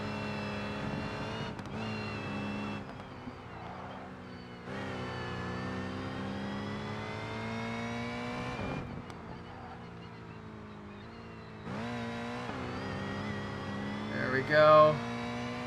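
A race car engine revs hard around a track in BeamNG, climbing through gears with sharp cut-offs between shifts, loud and close throughout, with a brief tire squeal near the end.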